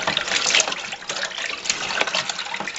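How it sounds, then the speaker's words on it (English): A homebrew skeeter pee mixture is stirred in a container, giving a continuous wet swishing and sloshing, close and fairly loud, with no talk. "Okay, and then we're going to stir that in. Make sure you get it stirred in really well."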